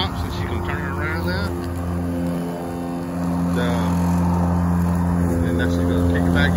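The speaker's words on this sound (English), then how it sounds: "the entire time, the blade was still spinning" A Ryobi 40V self-propelled lawn mower runs with its blade spinning, a steady, fairly loud motor whine and hum that swells slightly partway through, with a voice talking over it.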